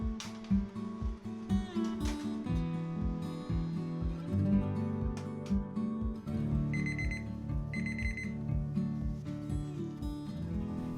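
An electronic kitchen timer goes off after baking homemade hot dog buns, repeating a steady rapid beeping pattern for about eleven seconds over a quiet room, with no voices.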